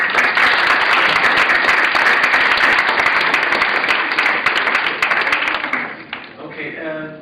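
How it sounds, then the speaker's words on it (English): Loud, dense audience applause at a university presentation in Leeds fills the room steadily for about six seconds, then thins out as a voice begins speaking. "So a round of applause for Phil."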